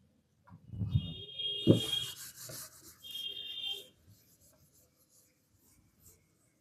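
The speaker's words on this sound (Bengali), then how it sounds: "এবার এটা মুছে দিচ্ছি।" Writing is wiped off a classroom board in short, soft rubbing strokes, two brief bursts of scrubbing that fade into quiet.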